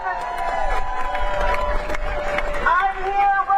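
A street protest crowd on Not My President Day in Austin, with a loud, dense roar of voices and cheering under a person speaking through amplification close by.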